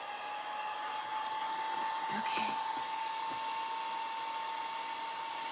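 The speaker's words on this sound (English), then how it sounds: "I'm gonna turn the dryer on again" A dryer whirs steadily through a DIY Christmas gingerbread farmhouse craft session, a fairly faint constant tone with a few small clicks and knocks, and a voice speaks briefly over it.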